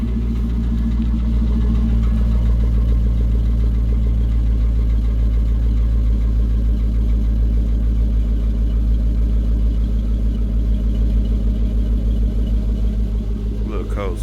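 Chevrolet Silverado pickup idling in real cold weather just after a cold start, a steady, loud, low engine rumble holding evenly throughout.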